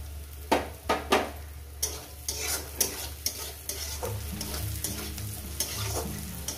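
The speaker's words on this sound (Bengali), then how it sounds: "এটাকে আমি আরো 1 মিনিট ভেজে নেব।" Green chilli, onion and ginger fry in a pan, with a steady soft sizzle under repeated scraping and stirring strokes of a spatula against the metal, all fairly quiet and close.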